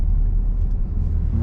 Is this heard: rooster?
no